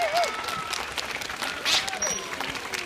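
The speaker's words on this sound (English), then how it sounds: "Let's give these dolphins a nice big round of applause" Audience applause at a dolphin show at Vancouver Aquarium, a crowd clapping under whistle-like dolphin calls and a bright chirp, moderately loud and continuous.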